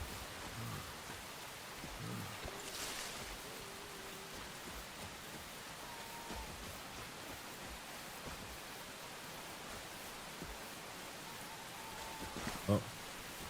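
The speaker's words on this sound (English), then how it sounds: "It's raining." Steady rain falls in the video game Enshrouded, a continuous even hiss of drops spread across the whole clip, with faint game sounds and brief bits of speech over it.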